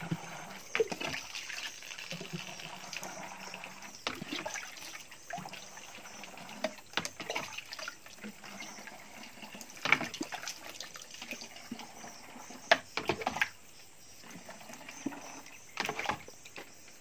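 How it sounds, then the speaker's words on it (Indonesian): About five liters of water is poured into a container of stirred mixture for treating avocado root and stem-base rot, giving irregular splashes and trickling bursts at close range. "Ini kita tambahkan airnya sampai ya kurang lebih lah 5 liter ya"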